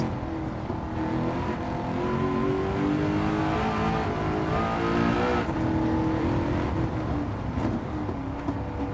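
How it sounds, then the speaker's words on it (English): A supercharged car engine in Gran Turismo 7, revving loudly and continuously with rising and falling pitch, the supercharger whine carried on top of the racing engine at close range. "you can hear the supercharger"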